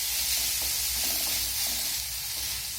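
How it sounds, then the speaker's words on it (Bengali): Onion, ginger and garlic fry in hot oil for a jackfruit chop, making a dense, continuous close-up sizzle with faint stirring beneath it. "পেঁয়াজের সঙ্গে আদা রসুনটাকেও আমি নেড়ে চেড়ে ভেজে নেব"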